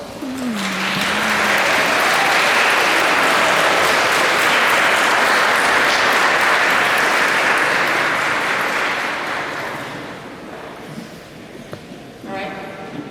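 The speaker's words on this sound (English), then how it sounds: "I want you to thank them with a big round of applause" Graduation audience bursts into sustained, loud applause that swells after a brief voice, holds as a dense wash of clapping, then tapers to scattered claps and murmuring.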